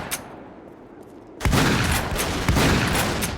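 A shotgun fires in the video game Haze, two heavy, close blasts about a second apart, each a sharp crack with a dense booming tail, after a quieter lead-in.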